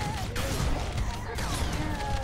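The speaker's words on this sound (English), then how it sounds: "Fucker had a Gauss cannon." Gauss cannon fire and explosions in Halo: Combat Evolved come as loud, dense bursts of blasts and crashes over a rumbling battle din, with a voice reacting faintly underneath.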